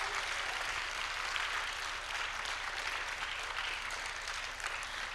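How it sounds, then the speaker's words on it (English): Sustained applause from a large audience at the IBBY-Asahi Reading Promotion Award 2022 ceremony, even and continuous clapping that fills the hall at moderate volume without pause. "give a round of applause of IBBY-Asahi Reading Promotion Award 2022"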